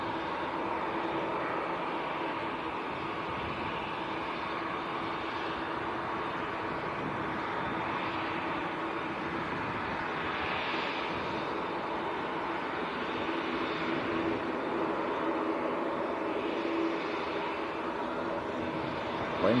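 A TUI airliner taxis at Manchester airport, a steady distant engine drone with wind and ambient rumble, fairly faint and continuous throughout.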